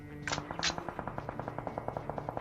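Automatic gunfire in the mobile battle royale game PUBG Mobile, two louder shots followed by a rapid, even burst of about twenty quieter rounds, with no talking.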